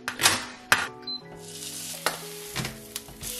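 Steak fries in a hot pan with a bright, crackling sizzle, punctuated by a few sharp clacks and pops as it cooks up close.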